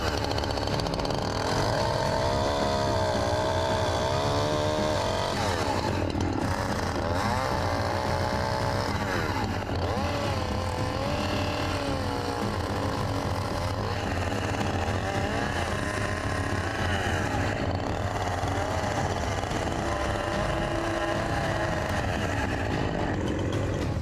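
A power saw cutting off a rhino's horn during a dehorning drones loudly and steadily for the whole stretch, its pitch wavering as the blade bites, with a low engine-like rumble beneath.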